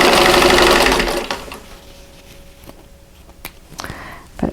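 Sewing machine stitching along a drawn line on a Christmas bauble quilt block, a loud rapid whirring burst that stops after about a second, followed by quiet clicks and taps.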